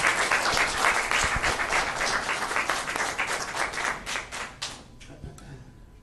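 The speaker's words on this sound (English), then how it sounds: "Round of applause for Pastor Mitchell." Steady round of clapping at an Inglewood city council meeting for Pastor Mitchell, fairly close and sustained, then thinning out and stopping near the end.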